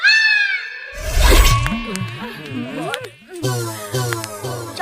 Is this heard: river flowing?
no